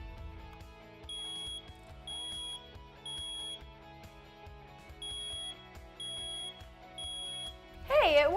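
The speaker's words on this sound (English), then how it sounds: "you'll simply hold the test button down and you'll have 3 beeps, a pause, and then 3 beeps again" Test beeps from a hardwired smoke alarm, sharp high-pitched chirps in two groups of three separated by a pause, sounding over quiet background music, with a brief voice at the very end.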